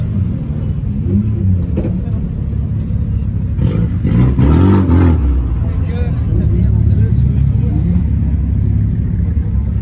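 A Lamborghini 350 GT Superleggera runs at an outdoor car gathering with a low, steady rumble. A louder surge comes in midway, and people talk over the engine throughout.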